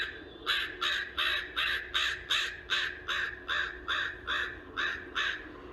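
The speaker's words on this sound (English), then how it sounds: "They also give unstructured caws." A crow caws over and over, about a dozen harsh, evenly spaced calls in quick succession without pause, fairly near and alone against quiet background.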